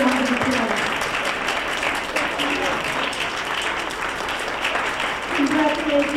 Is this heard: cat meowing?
no